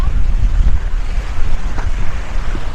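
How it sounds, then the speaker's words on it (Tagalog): Strong wind at a seashore at low tide, buffeting the microphone with heavy low rumbling gusts that pulse unevenly over a constant rush. "Diyos kong hangin."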